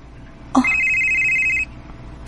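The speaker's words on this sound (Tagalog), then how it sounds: "si Raver, nanawag" A telephone rings once with a bright, steady electronic trill lasting about a second, clear and close over a quiet room.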